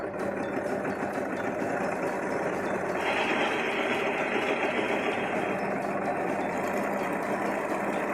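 A home sewing machine stitches a seam on a Simplicity 9041 dress, a steady continuous motor hum and needle whir running close and even throughout with no pauses.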